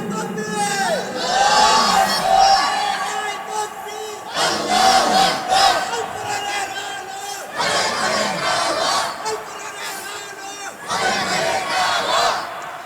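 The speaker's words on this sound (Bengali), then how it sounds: "একটু জোরে তাকবীর দাও দেখি" A large crowd at a religious sermon loudly chants takbir in unison, several long roaring waves of massed voices rising and falling with short gaps between them.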